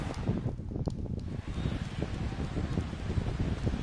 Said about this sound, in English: Neil Walker steps in here to lead off the 6th as the rain continues to fall here